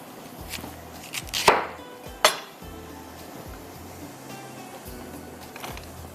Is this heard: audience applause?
no